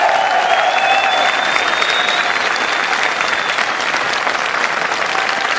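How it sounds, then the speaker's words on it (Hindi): A large audience claps loudly and steadily at an office event, the dense applause holding strong from start to finish with a few voices faintly mixed in. "एक बार जोरदार तालियां के लिए हो जाए"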